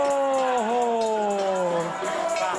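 Crowd at a Muay Thai fight cheering after a knockout, a sustained roar of voices with a prominent wavering shout, fairly loud and fading slightly at the end.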